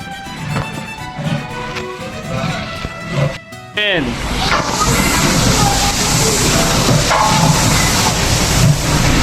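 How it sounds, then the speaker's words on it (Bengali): Mung dal poured into braised meat in a pot for bhuna khichuri, giving a loud, steady sloshing and sizzling wash that swells after a brief pause and continues under a talking voice. "মাংস কষানোর পরে মুগ ডালটা দেওয়া হলো"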